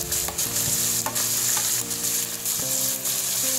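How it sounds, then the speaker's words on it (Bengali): Tomato, bell pepper and capsicum stir-frying for a veg biryani make a close, continuous sizzle with scraping and stirring strokes and a low steady hum underneath, with no speech. "দিয়ে এখন এগুলো আমি একটু ভাজা ভাজা করে নেব। কিছুক্ষণ এভাবে নাড়িয়ে নেওয়ার পর"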